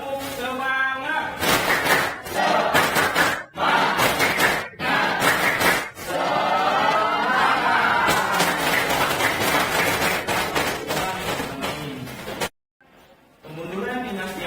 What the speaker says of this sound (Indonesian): kita melakukan sedikit tepuk semangat